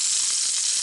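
Trout fillet frying in a hot pan of ghee and oil gives a steady, close, bright sizzling hiss that holds evenly throughout with no break, and no one speaks over it.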